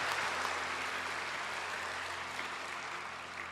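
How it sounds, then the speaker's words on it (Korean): A seminar audience claps in steady, dense applause that fills the room from start to finish, easing slightly toward the end, with no voices over it. "귀한 강의를 섬겨주신 대표님에게 다시 한번 큰 박수로"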